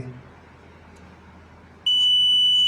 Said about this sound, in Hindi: एनटीसी जब भी चेक करेंगे आप तो बजर चलना चाहिए।